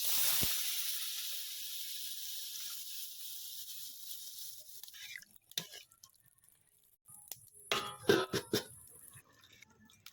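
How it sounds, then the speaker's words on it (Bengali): Water poured into fried spice paste in a hot pan for a Bengali papaya-potato curry sets off a loud hiss that fades away, followed by quiet bubbling and a few sharp spits and crackles near the end. "ভালো করে মশলাটা কষানো হয়ে গেছে এর মধ্যে দেবো জল"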